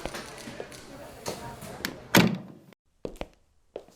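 A door is shut with a sharp thunk that stands out from a busy background of voices and clatter, followed by a quieter stretch with a few softer knocks.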